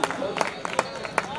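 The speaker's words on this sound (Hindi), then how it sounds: "चलो एक बार आप सब मिलकर तालियां बजा के जा देते हैं।" Scattered audience clapping at an outdoor mushaira poetry gathering, uneven sharp claps over a murmur of crowd voices, with someone speaking over the applause.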